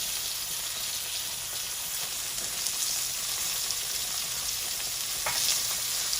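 Soft, steady sizzling of steak frying in a hot pan, a constant crackling hiss with a few brief pops, no talking.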